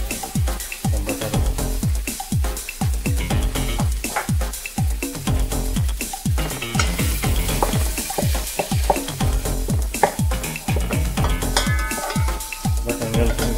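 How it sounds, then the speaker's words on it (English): Butter sizzles and spits in a hot pan while making Malabar lamb biryani, a steady frying crackle punctuated by regular scraping strokes of a spoon stirring, close and loud throughout. "butter melting very quickly."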